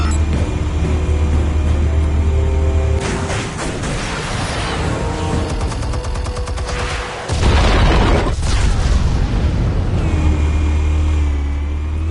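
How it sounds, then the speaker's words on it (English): Explosives go off in the Batman Telltale Series video game, heard as a rumbling low blast and crackling debris that swell over several seconds, loud and close with a sustained roar after the detonation and no talking. "Explosives armed. Fire when ready."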